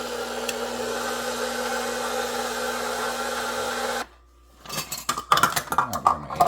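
A stand mixer on second speed mixing dough with two eggs and sugar for homemade croissant rolls, a steady mechanical whir with a faint hum for about four seconds, then stopping as clinks and kitchen clatter follow.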